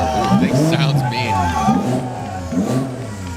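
A Porsche GT4 race car accelerates hard up the Pikes Peak hill climb, its engine rising and falling loudly in repeated surges while a commentator talks excitedly over it.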